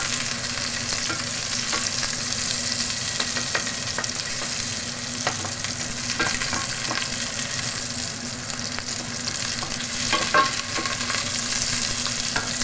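Onions sauté in a pan for ginisang gulay, a steady, close, dense sizzle that runs unbroken throughout with a few faint scrapes and no voices.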